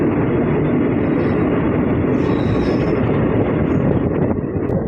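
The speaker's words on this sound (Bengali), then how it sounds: "আমাদের ট্রেন ছেড়ে দিচ্ছে।" A crowded ten-coach Katwa–Azimganj passenger train pulling out, its steady loud rumble and rattling wheels on the tracks filling the whole stretch without pause, a faint horn-like tone briefly above.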